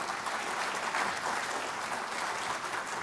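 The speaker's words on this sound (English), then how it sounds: "please give them a big round of applause." Audience applause at a social enterprise summit, a dense, even wash of many hands clapping, moderately distant and sustained without talk.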